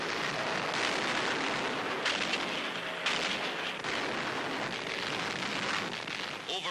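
1,000-pound bombs explode on channel port docks and installations in a 1942 wartime newsreel, heard as several dull, rough booms over a hissing old soundtrack.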